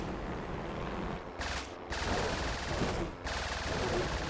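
Vehicle-mounted weapons firing in the building game Trailmakers, a dense continuous crackle of rapid shots with brief gaps, moderately loud and steady throughout.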